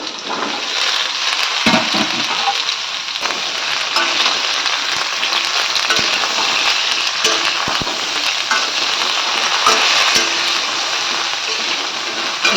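Chopped vegetables tossed into a pan of fried potatoes for a bottle gourd greens dish, giving a loud, continuous close-up sizzle with occasional stirring clatter throughout, no talking.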